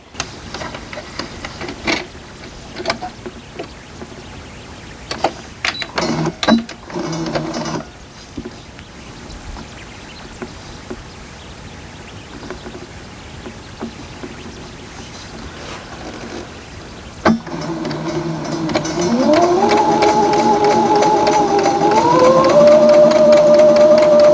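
Sewing machine stitching quilt block pieces, starting with scattered clicks and handling noises, then a steady mechanical whir that settles in and speeds up toward the end.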